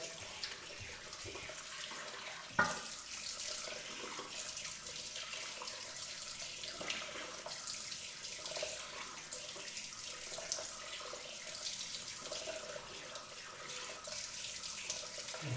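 Steady tap water runs into a sink while a beard is rinsed, a continuous splashing flow with one sharper splash early on, heard close and alone without talk.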